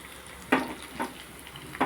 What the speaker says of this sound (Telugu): బాగా వేగినాయి కదా ఇదిగోండి జీలకర్ర ఆవాలు ధనియాలు వేసాం